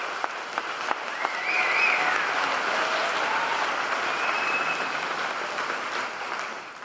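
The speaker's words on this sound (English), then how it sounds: "Let's give them a round of applause." An audience at a 2018 alternative learning center graduation ceremony applauds the graduates' families, a sustained round of clapping from a large indoor crowd that rises quickly and tapers slowly.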